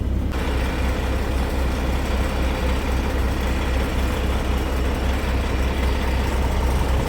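A Kenworth semi-truck's engine idles steadily with a deep, heavy low rumble, close and continuous for the whole stretch without any talk.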